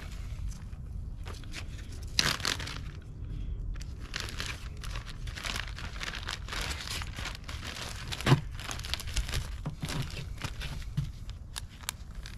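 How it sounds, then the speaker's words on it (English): A paper towel is rolled up and pushed into a Ziploc plastic bag, giving soft, irregular crinkling and rustling handling noises up close, with occasional sharper crackles and no talking. "okay and you can actually just kind of roll it up. Place it in the Ziploc bag."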